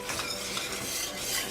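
A cheese sauce being whisked for a broccoli and cheese casserole, a brief, close, continuous scraping swish of the whisk against the pan.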